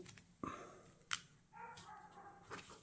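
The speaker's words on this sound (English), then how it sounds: "he's still barking away" A dog barks a few times, each bark short and separated by pauses, sounding somewhat distant against a quiet room.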